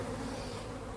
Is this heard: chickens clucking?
no